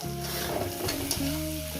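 Egg fries with snake gourd in ghee over a medium gas flame. A steady, continuous sizzle runs under sustained tonal background music, with no talking.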